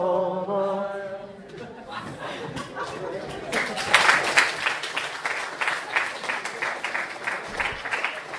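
Audience applause following a sung hallelujah at a lecture on Knausgård and autofiction, starting after the last sung notes fade and building into steady clapping that stays fairly loud, with some murmuring mixed in.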